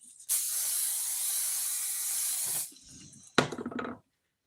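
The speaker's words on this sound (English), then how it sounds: "Maybe we should spray a little more." Hairspray hissing from an aerosol can onto hair in a long continuous burst of nearly two and a half seconds, followed by a brief quieter gap and a second short, sputtering spray.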